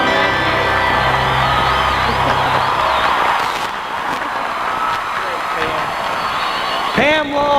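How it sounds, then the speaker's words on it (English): A large crowd applauds and cheers at a 1993 Florida State University Heisman celebration, a loud, continuous wash of clapping, whoops and shouts, with a few sharp whistles near the end. "applause."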